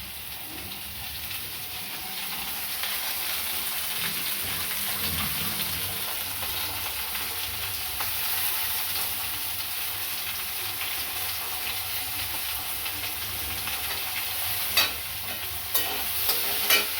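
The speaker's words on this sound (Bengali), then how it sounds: "ভাজা হচ্ছে" Food fries in a pan with a steady, hissing sizzle and occasional scraping while being stirred, plus a few sharp clinks near the end.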